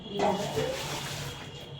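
Water gushing out of a tap or outlet during Diwali preparations at home, a steady, fairly faint rush with brief voices at the start.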